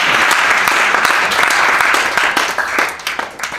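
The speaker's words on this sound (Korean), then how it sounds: "박수 한번 쳐주세요" Loud, dense applause from an audience at a Korean retirement dharma service for a professor, a sustained wash of many hands clapping that thins slightly toward the end.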